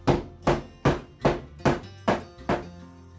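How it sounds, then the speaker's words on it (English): A soap mold filled with cranberry pumpkin cold process soap batter is banged down on a surface, giving seven hollow, evenly spaced thunks about half a second apart, close and fairly loud. "I'm going to bang that down again to get air bubbles out"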